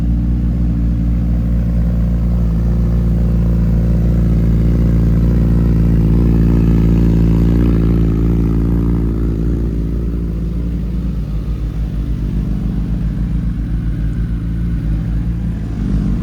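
A 2023 sport motorcycle engine running close by, its loud, steady idle rumble lifting briefly in a light rev around the middle before settling back, heard alone without talk.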